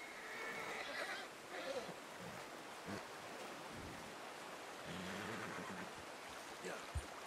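Horse in the video game Red Dead Redemption 2 giving a brief whinny over steady game ambience, followed by faint hoof and movement sounds, with a player talking now and then.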